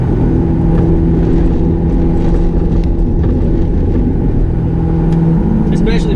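Engine of someone's new car fitted with an Eaton 2V supercharger runs loud and steady from inside the cabin, a continuous low drone with a faint whine, while people talk over it.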